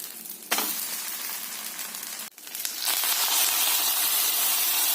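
Appam batter cooking under a lid in an iron kadai gives a steady close sizzle and hiss with a brief lid-shifting break, then a brighter, louder frying hiss that holds to the end.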